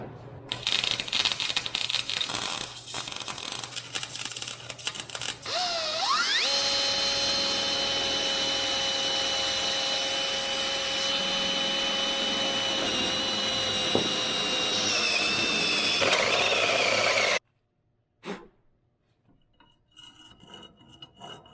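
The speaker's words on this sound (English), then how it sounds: "If you don't have a step drill, you should get one." Step drill bit cutting through galvanized steel, a steady loud whining grind with rising pitch that runs for about twelve seconds, then stops abruptly, followed by faint handling noise.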